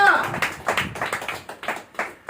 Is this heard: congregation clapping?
yes